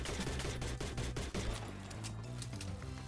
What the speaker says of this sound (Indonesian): Ada yang nembak kita, woi